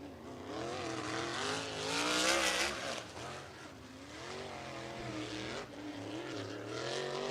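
USAC sprint cars race around a dirt oval track, engines roaring and rising and falling in pitch as they pass through the turns, heard at a moderate distance and fairly faint.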